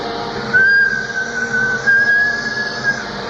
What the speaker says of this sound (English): they've got a bosun whistle here